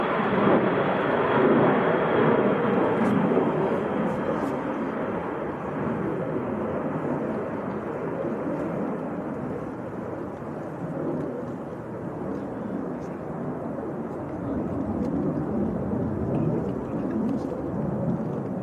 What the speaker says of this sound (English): There's a little German Phenom. Going out to Lelystad.